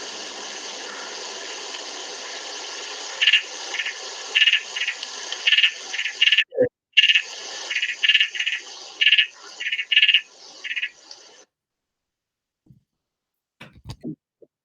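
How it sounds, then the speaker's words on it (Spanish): Batrachyla leptopus frog calling in Chile, a rapid series of short, bright pulsed notes repeated over a steady hiss of water or aquarium noise, fairly close and clear, ending in silence with a few faint knocks. "Y suena, la Patraquila leptopus suena"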